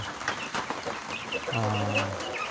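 Layer chickens cluck inside a chicken house in a few short calls. A brief, rising squawk stands out near the end over soft background noise and murmuring.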